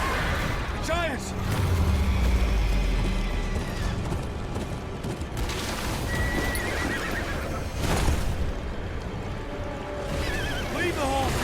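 Horses neigh and whinny in a Game of Thrones video game, with clip-clopping hooves and battle noise underneath as voices shout over the scene.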